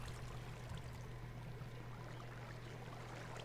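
Minecraft 1.9.2 water ambience while the player swims, a steady washing, trickling stream-like sound with a constant low hum underneath, continuous and moderately quiet throughout.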